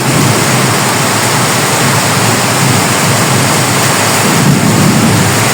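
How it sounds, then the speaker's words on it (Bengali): Heavy rain pours in a loud, steady roar, dense and unbroken, close by with no other sounds standing out. "বৃষ্টির শব্দ এত বেশি"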